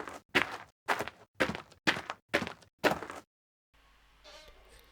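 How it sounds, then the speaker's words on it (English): Footsteps on gravel, seven even, crunchy steps from a third-person character in a Unity game using Wwise, close and dry, then a stop and faint room noise. "switch that back to gravel, and hear what gravel would sound like when we're crouched versus when we're not."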